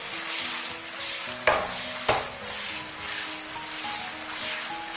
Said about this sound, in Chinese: 再给它翻炒均匀，使山药小窝窝充分的吸收汤汁。